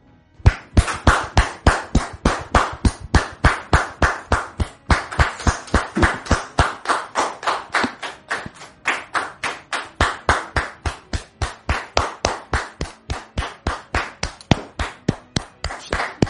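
Clapping from a television studio audience greeting a guest, a brisk, evenly paced run of sharp claps that goes on for the whole stretch, fairly close and fairly uniform, as if from a few hands.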